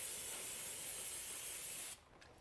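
A short, close, steady aerosol spray hiss aimed at the transmission fill plug area of a 2010-2017 Toyota Camry, running about two seconds before cutting off abruptly.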